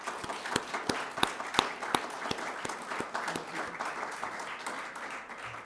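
Audience clapping for actor Hugh O'Brien at a museum book lecture, a moderately loud round of applause with distinct sharp individual claps standing out over the crowd, tapering slightly toward the end.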